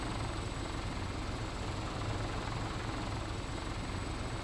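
Helicopter setting down on sloped ground in Arma: Cold War Assault, a continuous dense rotor and engine roar that stays steady and loud throughout with no voices over it.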